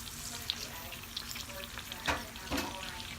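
Onions sizzling in olive oil in a pan, a steady soft fry with occasional clicks and scrapes of stirring, close and moderately quiet, no talking.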